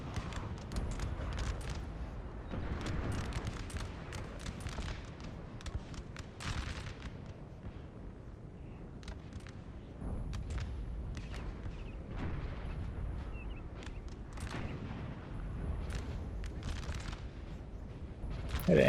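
Massed musket volleys crackle and boom across a Napoleon: Total War battlefield, dense overlapping gunfire with artillery rumbles rising and falling for the whole stretch, no talk over it.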